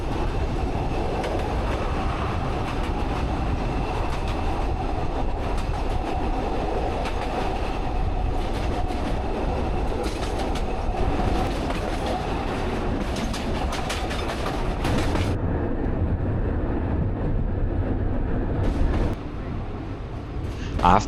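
A narrow-gauge train in Bulgaria, on the Septemvri to Dobrinishte line, rumbles along steadily with rhythmic clattering wheels and broadband rushing noise. Near the end the rumble thins out and drops off.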